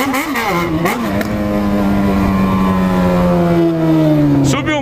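Motorcycle engine revving hard, loud and close, with rising and falling pitch sweeps that settle into a sustained high rev before a final burst.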